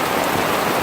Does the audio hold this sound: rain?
yes